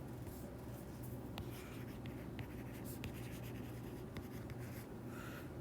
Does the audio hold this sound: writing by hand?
yes